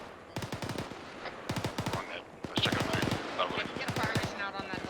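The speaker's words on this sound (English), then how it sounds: "Keep shooting until you're out of ammo." Automatic gunfire in the ArmA 3 military shooter, several rapid bursts of loud shots in quick succession with short pauses between them, mixed with faint radio-style voices in the background.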